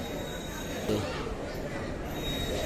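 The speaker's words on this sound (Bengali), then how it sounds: "ফাইনালি আসানসোল এক্সপ্রেস চলে এসেছে" The Asansol Express arriving at Kharagpur Junction, rumbling close by with a steady mechanical roar and a faint high whine, a brief louder clank partway through, voices faintly in the background.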